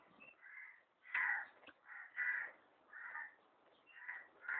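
Crows caw outdoors in a series of hoarse, repeated calls, several distinct caws in uneven rhythm, fairly close and clear with no talk.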